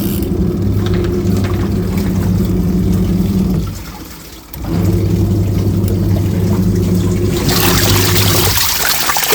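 A double-door, non-automatic washing machine in a village home runs with water flowing, giving a loud, steady motor drone with a watery rush that briefly dips and fades before surging back at full strength.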